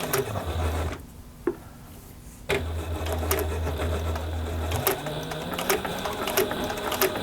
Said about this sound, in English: top stitch down the seam of these two exterior panels